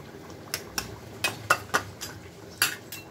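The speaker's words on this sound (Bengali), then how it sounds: "মাংসটাকে একটু ছোট ছোট করে নিচ্ছি চামচ দিয়ে" A spoon breaking cooked chicken meat into small pieces, a string of sharp metallic clinks and taps against a dish, irregular and close, about nine strikes with quiet gaps between.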